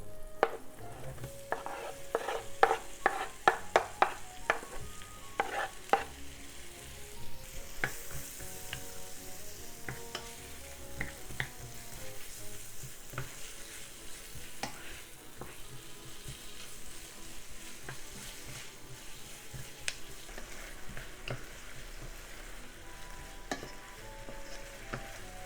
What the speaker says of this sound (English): let's cook onion and chicken.